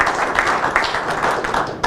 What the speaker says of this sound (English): Let's give him a golf clap.